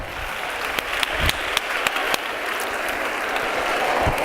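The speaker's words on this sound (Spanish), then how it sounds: "Muy bien, un aplauso" An audience at an education conference breaks into applause, a sustained wash of many hands clapping at moderate loudness with a few sharper claps standing out near the start.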